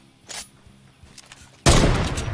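A single loud gunshot from a Fortnite match bursts out near the end, preceded by a couple of fainter distant shots.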